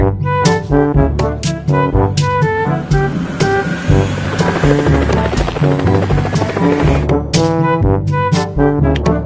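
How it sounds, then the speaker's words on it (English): A toy firefighting helicopter plays its electronic sound effect, a loud, steady chopping rotor pulse with bright electronic tones, continuous throughout. "Firefighting helicopter."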